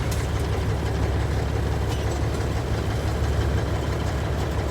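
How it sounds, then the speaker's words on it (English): A Class A truck engine idles with a loud, steady, close-up rumble that holds unchanged for several seconds, with no talk. "Push the button. Start the engine."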